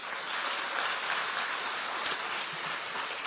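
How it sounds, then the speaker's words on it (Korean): Sustained applause from a large audience at a Democratic Party central election committee gathering, a dense, even roar of clapping with no voices over it. "이분들께도 박수 한번 좀 보내주십시오"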